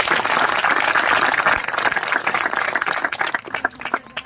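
A crowd applauds at a village library groundbreaking ceremony, loud dense clapping that holds steady and then thins into scattered individual claps toward the end.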